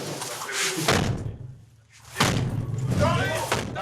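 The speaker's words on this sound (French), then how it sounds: "On va casser la porte." Police battering ram striking an apartment door during a raid, two heavy slamming impacts with a thudding crack, close and loud, separated by a short pause.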